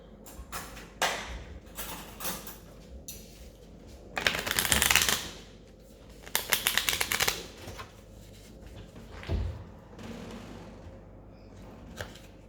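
Oracle cards being shuffled in several quick riffling bursts, close up, with brief taps and pauses between shuffles.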